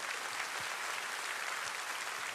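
Steady applause from a large church congregation, dense and continuous clapping filling the whole moment with no voices standing out.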